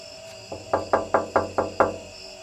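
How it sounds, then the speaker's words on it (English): Six evenly spaced knocks on the metal door of an old crypt ring out loud and close, in a steady rhythm after a brief pause, with no voices. "You can clearly hear this knocking sound on the metal door of this old crypt."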